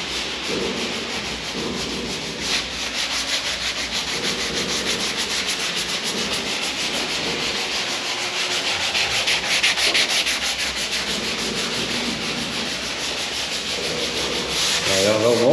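Continuous abrasive rubbing of a sander working a jet ski hull, a steady gritty hiss that runs unbroken without talk.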